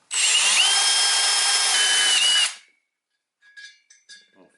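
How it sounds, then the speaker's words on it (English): A power drill whirs steadily for about two seconds, loud and close, drilling a hole in a TTR110 pit bike part, then cuts off, followed by a few faint clicks and rattles. "let's drill it open"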